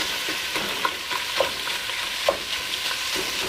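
Ground beef browning in a pan for Tex-Mex chili, a continuous close sizzle broken by a few light stirring knocks.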